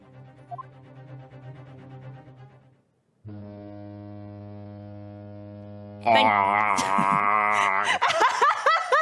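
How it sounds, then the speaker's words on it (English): A ship's horn in the Great Ace Attorney video game sounds a long, steady, deep blast, loud and sustained, followed by a brighter burst of game music and effects. "Honk. Oh dear, the ship is going to set sail soon."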